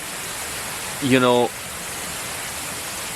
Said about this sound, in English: there is a gorgeous waterfall in the background